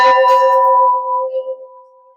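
A 200 kg temple bell cast from a seven-metal alloy in an old city temple, struck once with a clang, then a clear, bright ring that fades over about two seconds.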